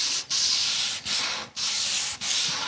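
Close, steady rasping of Cubitron sandpaper rubbed back and forth over wood by hand, five long strokes separated by brief pauses.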